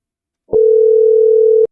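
A phone call rings out through a line, one long steady electronic tone lasting about a second, bracketed by brief clicks at its start and end, loud and alone with no voices.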